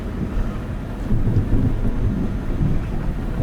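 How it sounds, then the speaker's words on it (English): Rumbling thunder over steady rain in the Euro Truck Simulator 2 game, a low rolling boom that swells midway and stays loud beneath the constant hiss of rainfall. "Lots of thunder."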